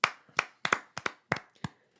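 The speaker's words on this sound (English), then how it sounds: "3-second clap to Derrick Henry" Seven sharp, separate hand claps in an uneven rhythm, close and dry, with nobody speaking.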